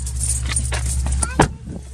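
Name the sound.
keys jangling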